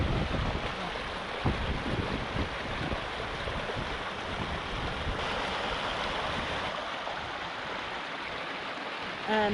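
Steady broadband rush of water at Palisade Lakes along the John Muir Trail, a continuous stream-like wash close by with a faint wind layer, no voices.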